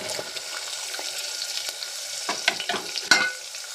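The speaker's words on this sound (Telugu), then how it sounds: "అటు ఇటు కలుపుకున్నాము." Chopped onions fry in a pan with a constant hiss, while a spoon stirs them in soft, irregular scrapes and taps, ending with a sharper clink.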